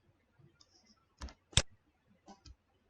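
A few sharp, dry computer mouse clicks while working in Photoshop, close and isolated against near silence, two clustered near the middle and another pair at the end.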